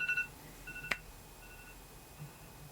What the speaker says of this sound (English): And that is my alarm going off.